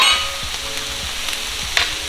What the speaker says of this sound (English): take our onions and our steak and you start mixing that together.